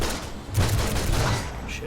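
Dense, rapid gunfire in the DC Universe Online video game, a steady crackling volley lasting about two seconds, with a voice talking over it.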